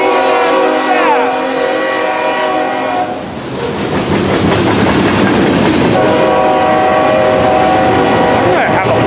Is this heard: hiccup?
no